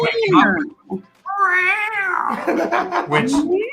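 A person imitating a cat with a drawn-out, wavering meow, preceded by a shorter vocal sound, close and clear.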